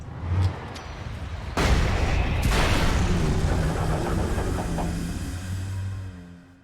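A flashbang grenade goes off in a video game, a sharp sudden boom followed by a long loud rumbling wash of noise that slowly fades, with a brief thump before it.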